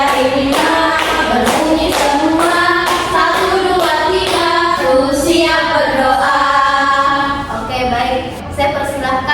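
Schoolchildren in an elementary classroom snap and clap their fingers together in a steady rhythmic pattern, sharp repeated ticks running under continuous sung or spoken voices throughout.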